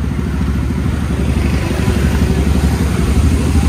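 Yamaha Xtreme 125R motorcycle fitted with an Akrapovic full-system exhaust, its engine running with a steady, loud, deep throb and a fast pulsing rhythm close by, unbroken throughout.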